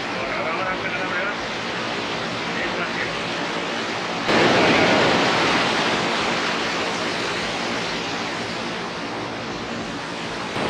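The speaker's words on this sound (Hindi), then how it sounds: "अभी हम ये टेम्परेरी पुल पार कर रहे हैं, यहाँ से नदी बह रही है।" A river rushes beneath a temporary footbridge on the trek to the Valley of Flowers, a steady broadband roar that swells louder midway as if drawing closer to the current.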